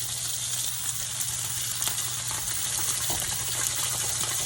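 A thick salmon fillet laid skin-down in hot oil for keto salmon, giving a steady, close, broadband sizzle that holds evenly throughout with no talking.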